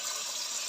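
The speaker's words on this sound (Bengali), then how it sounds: "দিব? গরম পানি।" Hot water pours into a cooking pot of khichuri with potatoes, a brief, steady rushing gush of liquid, close and even.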